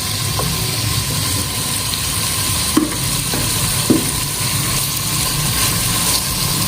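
600 grams of chicken strips frying in half a cup of oil, a loud steady close sizzle with a few sharp utensil clicks against the pan, no talking.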